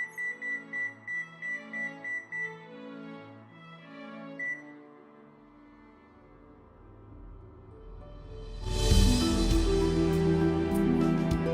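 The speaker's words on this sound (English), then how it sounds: "we're gonna put them into the oven, and we're gonna set the timer" A kitchen timer goes off while something bakes in the oven, giving a quick run of about eight evenly spaced loud beeps, then some quieter clatter and a burst of broad rustling noise.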